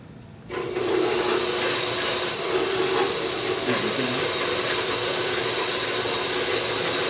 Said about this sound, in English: So let's turn our mixer on.